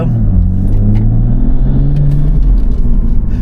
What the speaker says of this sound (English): I think you can hear the intake as well